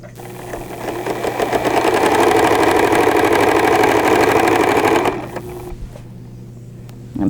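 A sewing machine stitches fabric in one continuous loud, close run of rapid mechanical chatter, then stops abruptly and leaves a quiet room with a faint hum and a small click at the end.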